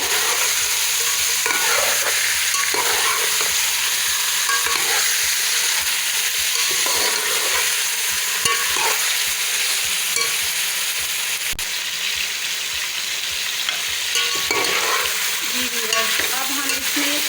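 Chicken and ginger garlic paste with crushed green chillies are stirred in a frying pan, with a steady sizzle and frying hiss under repeated scraping and stirring strokes, close and continuous with no speech.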